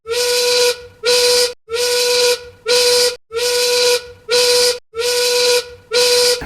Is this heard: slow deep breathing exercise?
no